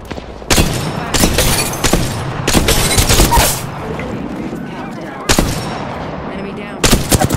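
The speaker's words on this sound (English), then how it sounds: "They're taking shots." Gunfire in the Apex Legends battle royale game, with several sharp bursts of shots over a dense backdrop of in-game action, loud and close, repeating at uneven intervals.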